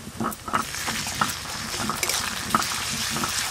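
Ginger garlic paste hits golden brown onions in a pan and fries with a steady hiss, broken by a few scraping stirs at regular intervals, close and moderately loud, with no talking.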